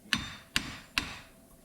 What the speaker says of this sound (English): Couple whacks, hoping that it'll just shake it off a little bit.